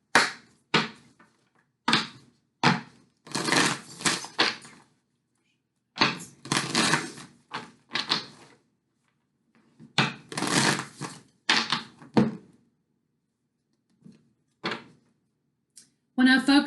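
A deck of tarot cards is shuffled and handled in repeated short riffling bursts separated by pauses, close and crisp, with stretches of near silence between.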